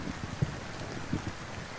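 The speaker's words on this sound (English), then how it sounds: "Oh, it's heavily raining now." Heavy rain in the video game Roblox Apocalypse Rising, a steady diffuse wash of rainfall with a couple of soft thuds, heard alone without speech.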